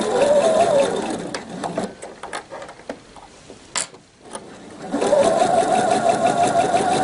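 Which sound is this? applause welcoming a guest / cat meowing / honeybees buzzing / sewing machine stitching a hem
sewing machine stitching a hem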